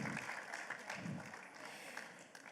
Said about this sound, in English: Big round of applause, big round of applause.